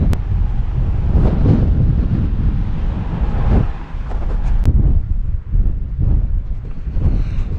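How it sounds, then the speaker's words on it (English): Strong wind on a hilltop on Whiskey Dick Mountain buffets the microphone with heavy, continuous low rumbling and gusty roaring, loud and close throughout. "It was a really cold, really windy hike this morning"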